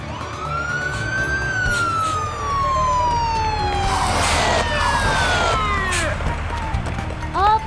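A police car siren wails loudly, sweeping up and down in long rising and falling tones with a second siren layered in, over background noise and a few voices.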